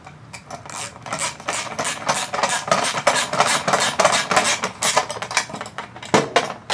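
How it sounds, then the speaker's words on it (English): A 10mm socket wrench works bolts on a 2024-2025 Tesla Model 3, producing a close, rapid series of rasping ratchet clicks in bursts, with no talking. "take your 10mm socket or a wrench if you have just a wrench, Phillips screwdriver, and just tighten them up"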